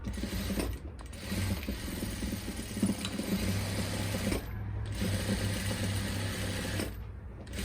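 Sewing machine stitching a straight salwar, a close, steady mechanical whir with rhythmic needle clatter, running in long bursts separated by short stops, no talking.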